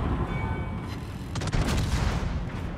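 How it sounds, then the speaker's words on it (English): Rolling booms and crackling blasts from battleship main guns in the naval video game World of Warships, layered over a dense, rumbling battle ambience. "Try some blind shots in on this guy as he goes broadside"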